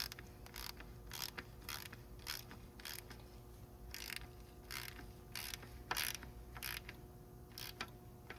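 Hand ratchet tightening radiator bolts on a 2014 Lexus RX350 with a 2GR-FE V6, a close, quiet series of quick clicking bursts in an uneven rhythm, roughly a dozen short strokes with brief pauses between, and no talking.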